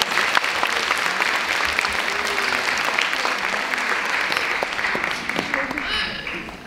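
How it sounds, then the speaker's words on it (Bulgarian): Dense, sustained applause fills a room at a 2024 Christmas celebration, a continuous roar of many hands clapping for nearly seven seconds before tapering slightly at the end. "аплодисменти!"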